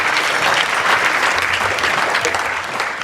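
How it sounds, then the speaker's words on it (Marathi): A crowd claps loudly and continuously at a Marathi Varkari kirtan, a dense wash of applause that fades slightly toward the end. "जोरदार टाळ्या वाजवा"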